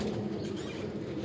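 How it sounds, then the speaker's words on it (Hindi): A flock of pigeons takes off on their first flight from a rooftop in Kasur, their wings flapping as a steady, close, rushing flutter that lasts the whole moment with no pause. "लो जी ये जेडे कबूतर आज पहली उड़ान दे विच उड़ाए जाणगे"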